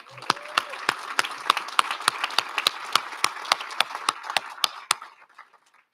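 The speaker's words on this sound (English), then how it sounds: "Can we give an applause to everyone that is on the panel again?" Audience applause for a panel at a Martin Luther King Jr. annual celebration event, a run of sharp individual claps over a steady crowd wash, close and fairly loud, fading out before the end.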